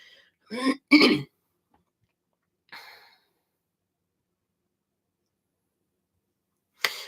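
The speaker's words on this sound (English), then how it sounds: "Let me clear my throat one good time." Someone clears their throat twice in quick rough bursts, then a faint breath and a short noise follow amid near silence.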